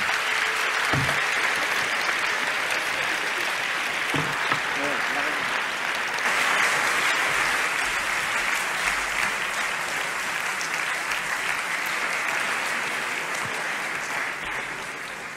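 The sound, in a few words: audience applause for round-table guests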